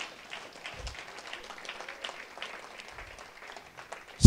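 A church congregation at worship claps and applauds to acclaim the Lord, a steady dense patter of many hands with a low thump or two, at moderate distance and without clear speech.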